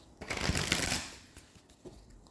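A deck of tarot cards shuffled close by: a short, soft riffling burst that fades into a few light card taps, alone and quiet.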